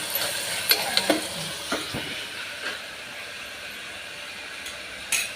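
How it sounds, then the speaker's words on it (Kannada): Onion, beans, carrot and peas frying for pulao, a continuous sizzle with several sharp clinks and scrapes of a spoon early on, then steady hiss; no talk. "ಉಳ್ಳಾಗಡ್ಡಿ ಬೀನ್ಸ್ ಗಜ್ಜರಿ ಬಟಾಣಿ ಎಲ್ಲ ಹಾಕಿ ಫ್ರೈ ಮಾಡೋದು"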